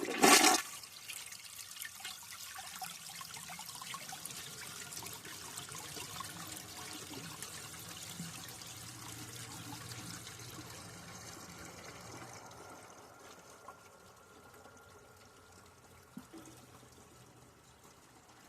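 A 1995 Mansfield Alto toilet flushing with the handle held down: a loud initial gush that settles into a long, steady rush of draining water, tapering to a trickle and refill near the end, with no voices.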